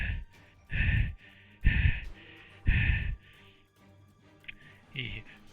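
A robot character in a tabletop game session gives three loud, heavy breaths in a row, each a swelling rush of air with short pauses between, ending in fainter sputters. A voice imitates the breathing.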